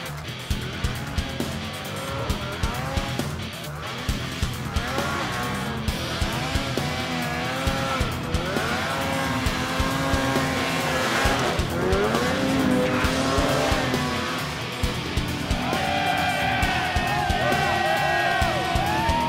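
Snowmobiles racing up a hill climb at Snow King Mountain in Jackson Hole, engines revving and whining in rising and falling sweeps, loud and near, with crowd noise and voices mixed in.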